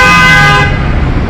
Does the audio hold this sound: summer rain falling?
no